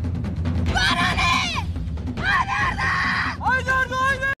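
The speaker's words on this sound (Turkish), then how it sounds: "Ya şöyle bağırma," A woman on a Survivor island competition shouts loudly in three long, strained bursts with short breaks between them, close and harsh over a background of talk.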